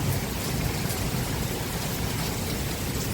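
Steady, unbroken hiss of heavy rain during a windy unseasonal storm over a village yard, close and continuous with no voices.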